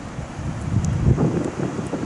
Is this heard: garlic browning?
no